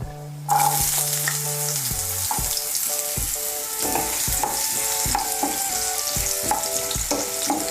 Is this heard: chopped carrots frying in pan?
yes